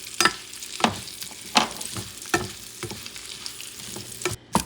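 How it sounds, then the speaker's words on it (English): Onions sizzle in melted unsalted butter in a pan, a steady close frying hiss broken by a string of sharp scraping stirs about every half second to second. "Add the onions. And all you're going to do, you're going to saute these babies"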